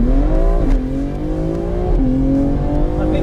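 A BMW X3M launches hard off the line with launch control at a drag race, its engine roaring loud and close with rising revs through the gear changes.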